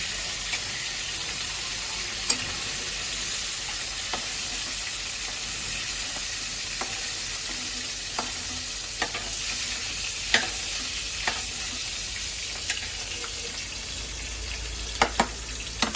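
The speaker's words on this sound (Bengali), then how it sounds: "তো চিংড়ি মাছটা আমি বেশি ভাজবো না" Prawns frying in hot oil for mocha chingri, a loud, dense, continuous sizzle and crackle up close, dotted with small sharp pops and occasional light clicks, no voices.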